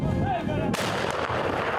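A heavy artillery blast booms out abruptly in the Luhansk region, followed by a rumbling, crackling roar that lingers, with muffled voices and noise before the shot.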